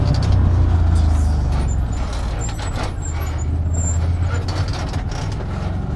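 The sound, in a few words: brakes squealing on Can-Am Commander off-road vehicle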